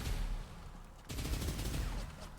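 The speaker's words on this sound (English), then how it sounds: "This is your typical nail gun. It's pretty much inspired from Quake's nail gun. Fires fairly fast flying projectiles." Rapid nail-gun fire in the Cosmic Dawn video game, a dense continuous rattle of fast shots with a brief pause in the middle before the volley resumes, loud and alone.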